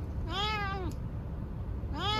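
A cat recovering right after surgery gives two drawn-out meows, close by and moderately loud, separated by a pause over a steady background hiss, with no talking.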